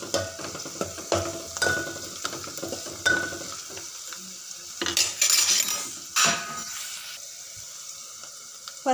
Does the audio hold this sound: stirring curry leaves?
yes